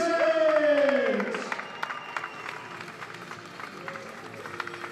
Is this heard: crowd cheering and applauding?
yes